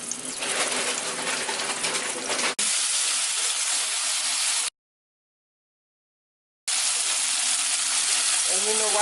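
Oil frying in a pan while cooking black rice with green peas, a steady broadband sizzle with some speech-like murmur, cut off by a two-second silence before the sizzling resumes.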